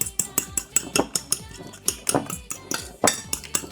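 A metal utensil stirs grated pecorino cheese into carbonara sauce in a bowl, making quick rhythmic clinks and scrapes against the dish, close and fairly loud, repeating steadily throughout.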